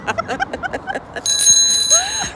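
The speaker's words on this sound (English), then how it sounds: "With a bell." Bicycle bell rings with a bright, sustained tone in the latter half, following a run of rhythmic short electronic beeps; no voices.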